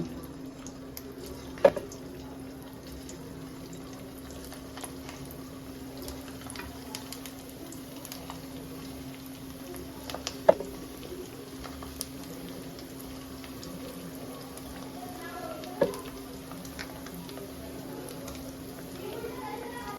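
Potato and flattened rice snacks fry in white oil over a lowered gas flame, giving a quiet, steady sizzle with an occasional sharp pop.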